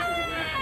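A big rooster crows loud and near, one sustained harsh call filling the moment.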